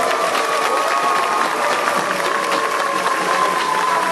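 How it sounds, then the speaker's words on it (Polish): A large outdoor crowd in Wrocław claps warmly at the official handover of the UEFA Euro 2012 trophy, loud dense applause that stays steady for several seconds, with a faint tonal hum running underneath. "Gorące brawa!"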